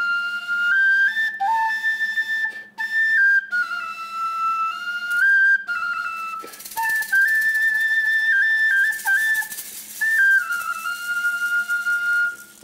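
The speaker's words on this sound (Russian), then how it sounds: "Это ирландский свисток." An Irish tin whistle plays a lively melody of clear, bright sustained notes with quick ornaments and brief breath pauses, close and solo in a studio.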